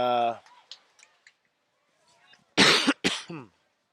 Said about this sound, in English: Just a cough